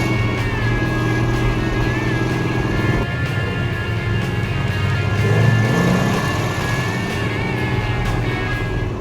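A 1969 1/2 Dodge Super Bee's 390-horsepower engine revs loud and close, its carburetors opening up into a steady throaty roar that swells briefly mid-clip before settling.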